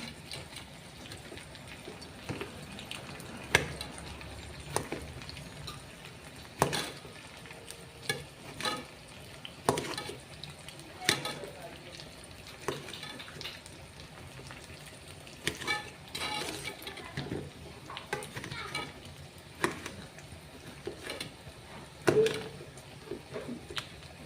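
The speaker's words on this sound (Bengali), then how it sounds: "পেঁয়াজটা ভাজা হয়ে গেছে," Chopped onion fries in a pan for sarson ka saag with a low, constant sizzle, broken by frequent sharp scrapes and clacks of a spatula stirring at an irregular pace, close by.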